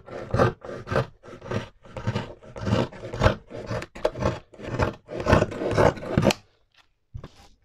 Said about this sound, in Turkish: Bu şekilde kesiyorum.